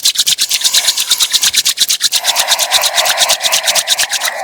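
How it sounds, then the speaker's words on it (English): Hands rubbing softly together during a Kundalini kriya practice, producing a close, rhythmic swishing of skin on skin in quick regular strokes that carry on steadily throughout with no talk. "Softly rubbing the hands together."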